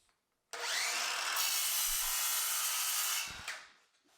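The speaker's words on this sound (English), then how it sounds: "A nice plunge cut to cut out the leg from the template material." A plunge saw cuts a desk leg out of template material, a loud steady whining buzz that starts abruptly, holds for nearly three seconds and then winds down as the blade leaves the wood.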